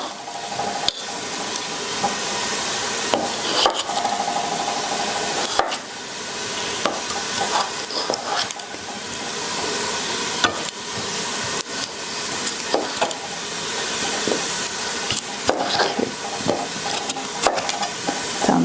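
Onions soften in a pan for a lentil and potato stew, giving a steady close hiss of gentle frying with scattered light clicks and scrapes of stirring throughout.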